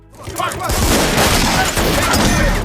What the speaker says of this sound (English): The police shoot after him.